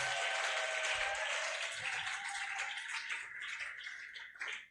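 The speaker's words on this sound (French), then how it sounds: "Nous allons acclamer encore très fort pour ces dieux." A church congregation claps in a dense, sustained round of applause that slowly fades toward the end, with no voices heard over it.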